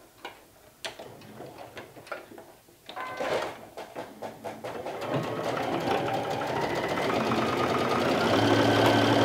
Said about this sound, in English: now we have 5 more stitchings to do where the pins are